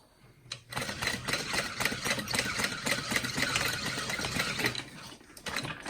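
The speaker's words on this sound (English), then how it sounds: "you could sew one more line of stitching" A sewing machine runs a continuous line of stitching along a handbag, a dense, fast mechanical rattle close by for several seconds that starts and stops abruptly, with no talking.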